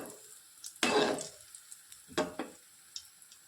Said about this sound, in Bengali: তো দেখুন বড়াগুলো কিন্তু এইভাবে ফুলে ফুলে উঠছে তেলের মধ্যে দিয়ে দেওয়ার পরেই।